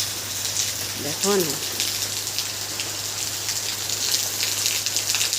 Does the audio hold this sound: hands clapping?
no